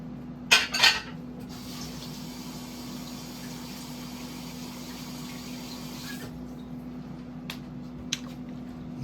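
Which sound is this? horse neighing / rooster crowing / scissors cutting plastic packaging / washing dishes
washing dishes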